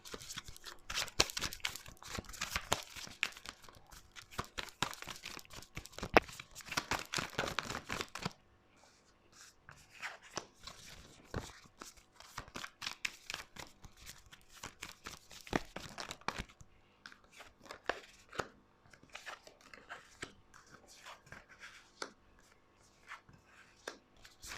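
Tarot cards are shuffled by hand, close, papery riffling and crinkly card slaps in dense, irregular bursts that thin out partway through and then resume more sparsely.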